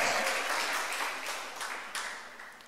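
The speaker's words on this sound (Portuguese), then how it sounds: "Aplaude mesmo." A church congregation applauds during a worship service, steady mixed clapping from many people, fairly close and slowly tapering, with no talk over it.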